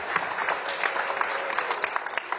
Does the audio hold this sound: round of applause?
yes